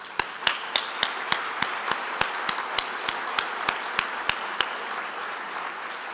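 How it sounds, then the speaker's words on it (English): Clapping at an energy-efficiency summit plenary sounds as a thin, evenly spaced series of sharp claps, like a single steady rhythm rather than a full crowd, fading slightly toward the end. "So now we can give all those folks a round of applause."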